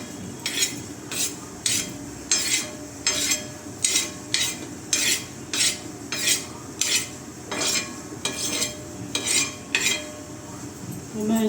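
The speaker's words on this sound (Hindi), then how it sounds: "अब मैं इसी तवे पे मेथी दाना को भी रोस्ट कर लूँगी" Fenugreek seeds roasting on a hot griddle, stirred with a utensil in regular scraping strokes, giving a steady series of about a dozen rhythmic scrapes over a faint sizzle.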